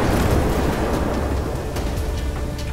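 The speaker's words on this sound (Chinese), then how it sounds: "大规模爆炸" A massive explosion in a GTA 5 zombie mod rolls on as a loud, sustained roar of low rumble and crackling fire, filling the whole stretch with no voices heard.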